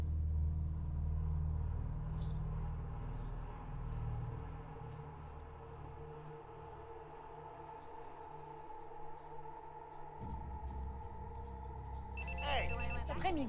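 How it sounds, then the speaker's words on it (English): A telephone rings in Far Cry Primal over low, rumbling game sound. The ringing grows clearer and more tonal near the end. "A phone call?"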